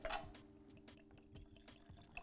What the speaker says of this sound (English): Dude, that's even pouring smoothly. I like the sound.